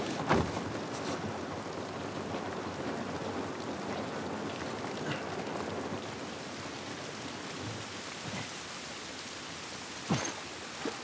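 Steady, heavy rain in The Last of Us Part II hisses throughout, with a few brief louder spatters and thuds breaking through the constant downpour.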